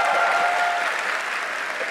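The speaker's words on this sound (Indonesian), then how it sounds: "berdiri dong, tepuk tangan dong" An audience claps throughout, a dense and even round of applause that fades slightly toward the end.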